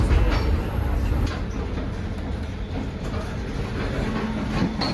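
Inside the Overland passenger train between Melbourne and Adelaide, a steady low rumble of rolling wheels on rails fills the carriage, with a high whine fading early and faint clicks over the track.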